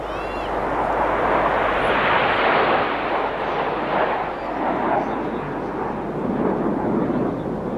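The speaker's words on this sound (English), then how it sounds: "The second jet from the right as we look tail on is flown by another of our first year pilots, Red 2, Flight Lieutenant Martin Pert." Red Arrows jet aircraft roaring past during an air display at Bournemouth, a loud continuous engine rumble and roar that swells and sustains outdoors.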